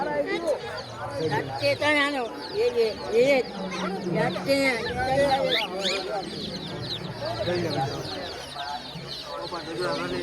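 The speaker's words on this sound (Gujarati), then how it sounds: "જો મિત્રો આ છે પોપટ" A parrot in a street market calls with repeated squawks and chattering whistles, close and lively, while people talk nearby.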